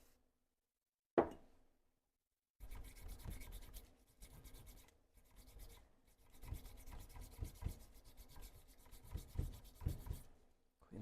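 Dirty clutch parts from a Brown and Sharpe No. 2 surface grinder being scrubbed clean with a pipe cleaner: steady close rubbing and scratching in irregular strokes after a brief knock and a short silence.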